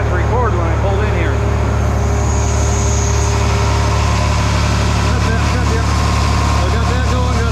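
Farm tractor engine running steadily nearby while a grain wagon unloads corn through an auger into a bin during corn harvest, a constant low drone with faint mechanical whine and someone talking over it.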